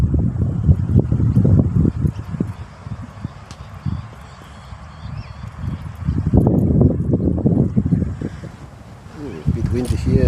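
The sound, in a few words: wind blowing on camera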